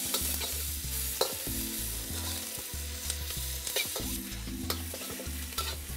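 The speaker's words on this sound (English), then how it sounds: "some onions, some tomatoes, pineapple. Give that a stir." Onions, tomatoes, bell peppers and pineapple sizzle in a wok, with loud, continuous frying hiss and repeated rhythmic scraping and tossing strokes of a spatula, close up and without speech.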